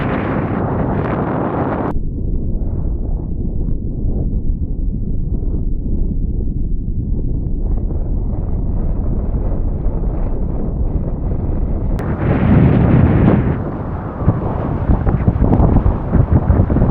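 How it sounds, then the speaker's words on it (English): Strong wind of about 20 knots buffets the microphone while wing foiling on open water, a loud, constant roar that surges and shifts throughout with no talking. "way windier than I thought it was going to be. This is like 20 knots"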